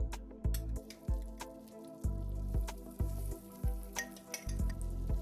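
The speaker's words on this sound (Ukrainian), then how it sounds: "На гарячу сковорідку викладаємо вміст цієї баночки перемелених шкварочок." Ground pork cracklings frying in a hot pan, a steady sizzle broken by repeated stirring scrapes and knocks, close and moderately loud, no talking.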